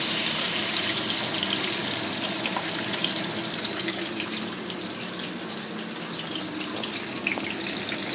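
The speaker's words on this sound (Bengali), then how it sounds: "যতটা ঝাল করব ততটা জল দিয়ে উপর থেকে জলটা দিয়ে দিব" Water poured from above onto ground mustard paste in a pan, a continuous splashing gush with a faint sizzle beneath, steady and close.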